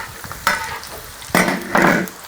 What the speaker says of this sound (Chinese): 锅中油加热之后，下入姜和蒜